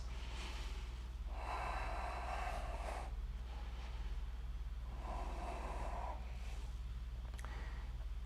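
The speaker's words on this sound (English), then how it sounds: "Two more breaths." Slow, deep breathing during a yoga flow, two long audible breaths a few seconds apart over a constant low hum, with no talk.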